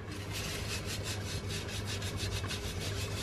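Oil-soaked paper towel scrubbing a jar in a kitchen, a steady rhythmic rubbing of fast even strokes, close and continuous.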